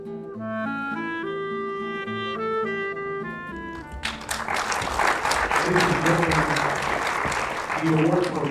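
Audience applause at a Serbian film festival award ceremony in 2019, breaking out after music fades and continuing as sustained, dense clapping from a sizable crowd.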